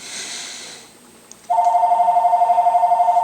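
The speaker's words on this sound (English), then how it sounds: "there goes the phone" An office telephone rings from 1.5 s onward, a steady warbling electronic ring that repeats rapidly and sits loud and close, following a quieter stretch of faint room noise.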